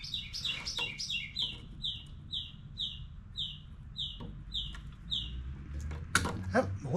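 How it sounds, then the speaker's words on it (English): A small bird chirps outdoors in a steady, squeaky rhythm of about two calls per second, clear but not loud, over low outdoor ambience, with some rustling and handling noise near the end. "That little bird up there sounds like he needs to be greased."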